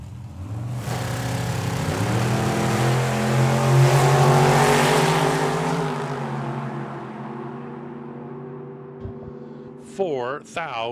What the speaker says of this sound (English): 67 model Camaro.